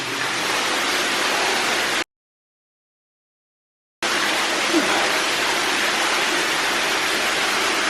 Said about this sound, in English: I wonder where that water must have been from the canal.